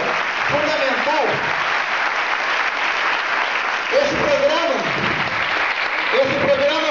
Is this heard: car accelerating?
no